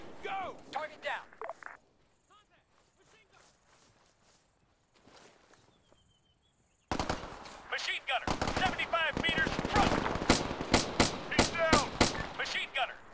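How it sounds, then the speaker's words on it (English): Gunfire in the Arma 3 military game: sparse distant shots and quiet footsteps first, then a sudden burst of rapid, loud machine-gun and rifle fire with faint voices under it. "Covering fire!"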